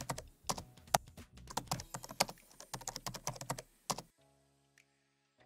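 Rapid typing on a computer keyboard, a dense run of sharp, close key clicks with uneven rhythm for about four seconds, then stopping into near silence.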